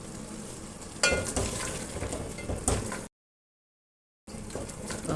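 Kaleji curry with green chillies and coriander is stirred in a pan, a soft sizzle with scraping spoon strokes that cuts out briefly to silence before resuming.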